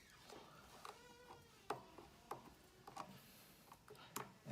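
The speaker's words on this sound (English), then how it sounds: "Okay, so I'm gonna first unscrew the first one." A flat screwdriver turns out a screw on a Le Morgan halogen convection oven. The quiet, close sound is a series of small irregular clicks and squeaky metal turning noises, with no talking.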